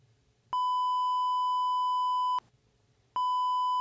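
Two long, steady censor beeps sound close and loud, the first about two seconds, the second starting after a brief gap.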